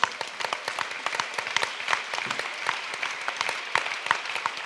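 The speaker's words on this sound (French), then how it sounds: "Je crois qu'on peut les applaudir tous." An audience applauds debaters at a referendum debate evening, a steady close patter of many hands clapping throughout with no voices.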